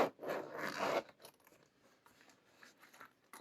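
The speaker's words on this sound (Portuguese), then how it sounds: "Deixa eu abrir aqui o zíper." A zipper on a crochet handbag being pulled open, one close, quiet scratchy run lasting about a second, then faint small handling rustles and scrapes in a quiet room.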